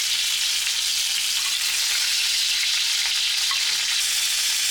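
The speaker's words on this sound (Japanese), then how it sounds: "またひっくり返して皮を焼いて縮みを防いであげるということですね" Chicken thigh skin fries in a pan with a loud, dense, continuous sizzle that holds steady throughout, with no voices over it.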